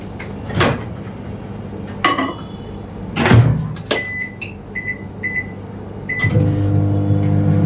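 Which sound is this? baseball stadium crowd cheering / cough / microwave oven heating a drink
microwave oven heating a drink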